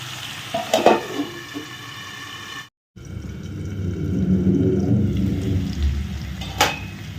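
Green banana and prawns frying in a covered pan over a medium flame, a loud close sizzle and crackle with stirring clatter, broken by a brief silent gap before the frying resumes stronger.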